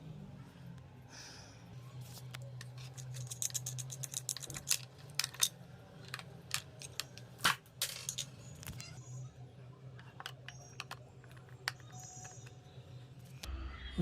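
Bolts are taken out of the number plate on a Kawasaki Ninja 1000, heard as scattered faint metallic clicks and ticks from close by, some quick bursts, against a low steady hum.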